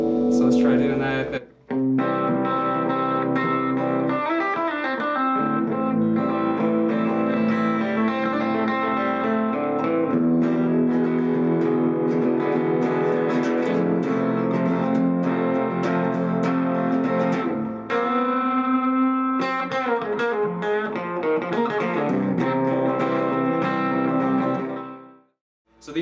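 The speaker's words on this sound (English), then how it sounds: "These pickups, these humbucking pickups in particular, sound really good with a nice amount of bit of drive on it." Gretsch Streamliner electric guitar with humbucking pickups playing a driven lead tone, a continuous run of distorted sustained notes and phrases with a few brief pauses, loud and close.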